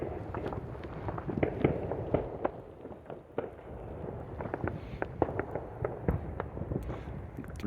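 Fireworks explode on all sides, a dense stream of sharp bangs and crackles at varying distances, some near and loud, others distant, with no pause between bursts.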